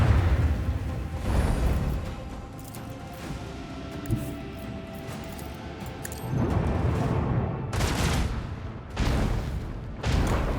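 Volleys of gunfire in the Warhammer 40,000: Rogue Trader game, with bursts of crackling shots and booms rising in clusters over a steady low rumble, strongest near the end.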